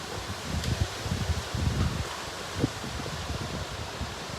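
Hurricane Ian wind gusting on the Charleston waterfront, a dense roaring rush with buffeting surges and microphone rumble, steady and loud throughout with no talking.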